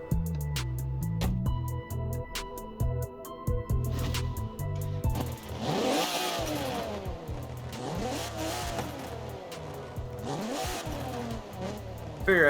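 A Rossion Q1 sports car in Forza Horizon 4's Forza Vista mode starts up, then its engine revs repeatedly, pitch climbing and falling in loud, close sweeps with no talking.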